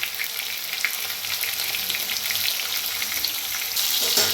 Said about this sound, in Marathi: आता बटाटो भाजायला आले